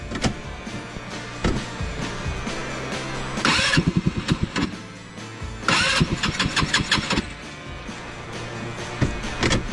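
An online-ordered Chinese snowmobile engine cranks in two loud bursts of rapid chugging before catching, then runs with a steady, raspy idle, close up and with nobody talking.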